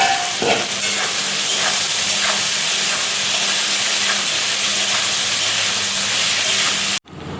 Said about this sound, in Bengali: তেলটা ভালো মতন গরম হয়ে গেছে। এইবার ভেন্ডি আলুটা ভেজে নেব।